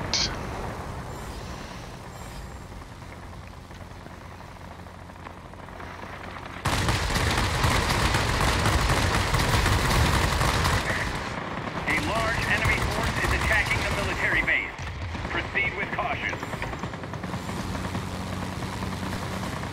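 Aircraft machine guns chatter in sustained bursts during a World of Warplanes dogfight against a Yak-9U, loud rapid firing layered over a droning engine, with someone talking over the action.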